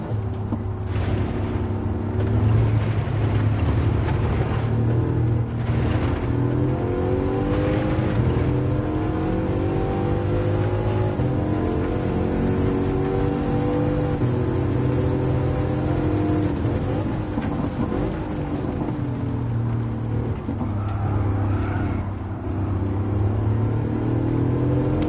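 A 2016 Bugatti Chiron revving hard around Monza in Gran Turismo 7, its engine a loud, steady, close drone with rising and falling pitch sweeps through gear changes, sustained throughout with no talking.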